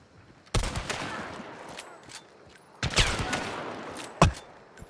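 A new rifle firing in the game Hunt: Showdown, three sharp loud shots spaced a second or two apart, each with a rolling echo tail, over faint background ambience.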